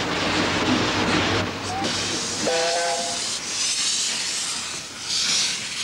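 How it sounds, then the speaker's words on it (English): A steam locomotive built in 1906 for the original Welsh Highland Railway hisses steadily and loudly, with a brief whistle-like tone partway through, against constant background rumble. "This is the sole surviving locomotive from the original Welsh Highland Railway, built in 1906"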